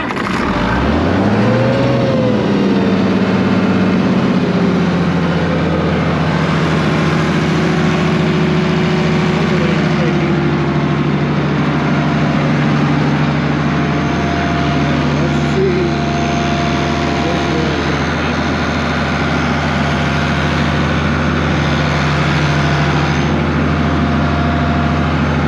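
An International Harvester IH 1468 tractor, long parked and running without its V8, idles steadily with a deep low hum and a rising whine at start-up, loud and close throughout, with a person talking over it.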